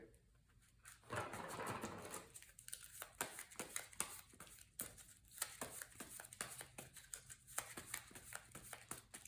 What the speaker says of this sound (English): let's shuffle up the player deck here